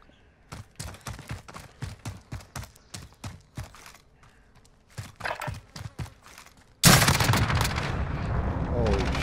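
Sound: Tavor rifle gunfire in Modern Warfare video game

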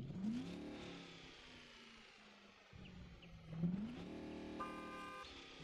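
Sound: Mercedes-Benz G63 AMG engine exhaust revving, from video game Euro Truck Simulator 2

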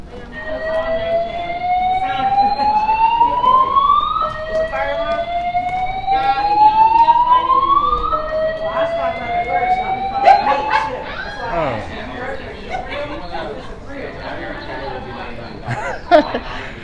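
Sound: fire alarm sounding in Atlanta Marriott Marquis hotel

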